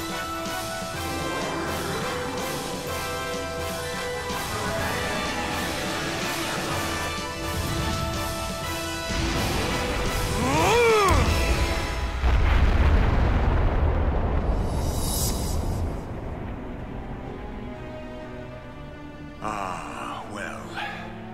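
Missile explosions in the Wild Arms 4 video game, heard as a long, dense stretch of booming blasts and roaring rumble under layered game music, with a swooping effect near the middle.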